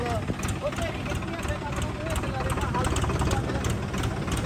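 A new Arjun 655 CRDI 4x4 tractor engine idles with a steady, dense low rumble, while people talk over it throughout.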